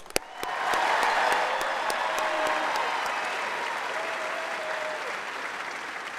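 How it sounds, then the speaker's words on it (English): A crowd at a high school graduation ceremony applauds the graduating class: a sharp clap opens, then thick, sustained clapping from a large audience rises quickly and carries on evenly, with a faint tone under it. "Let's give a big round of applause for them."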